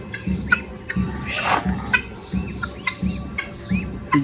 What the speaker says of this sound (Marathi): मस्त बदकाची पिल्लं आहेत.